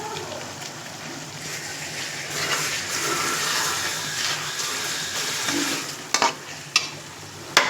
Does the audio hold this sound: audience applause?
no